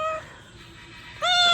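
A cat named Miss Kitty, a female with a crooked, once-broken tail, lets out two close, clear meows, the second louder and rising, with a quiet pause between them.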